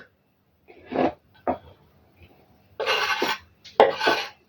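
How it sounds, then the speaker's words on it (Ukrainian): Boiled eggs for a rose-bouquet salad are moved into a mixing bowl, giving several separate knocks and scrapes of utensil against the bowl, two short ones followed by two longer, denser bursts, close by with quiet gaps between. "Перекладаємо яйця в миску, в якій будемо змішувати салат."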